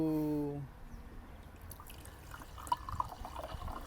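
Spanish mineral water is poured, a faint trickle breaking into a few light drips and splashes after a brief tonal sound at the start.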